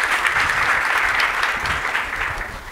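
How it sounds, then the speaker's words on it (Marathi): An audience bursts into loud, sustained applause, dense clapping from many hands holding steady for a few seconds close by. "एकदा जोरदार टाळ्या झाल्या पाहिजेत मला असं वाटतं."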